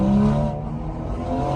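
A car engine drones loudly, revved to the redline, holding a strained steady pitch with a slight dip in the middle, close to the microphone.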